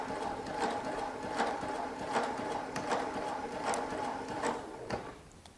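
A Baby Lock sewing machine stitches a quarter-inch seam, a steady mechanical whir with repeating ticks about every three-quarters of a second, running close and continuous before easing off at the very end.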